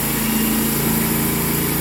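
The small motor on a sawmill runs steadily, a loud, continuous buzzing engine drone with a rough, even pulse, close by and alone.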